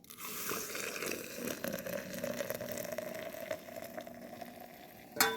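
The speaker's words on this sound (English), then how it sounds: "we're just going to add some water to this" Boiling water poured from a kettle onto fresh ground coffee, a steady close splashing hiss and trickle that runs unbroken for several seconds before a brief clink at the end.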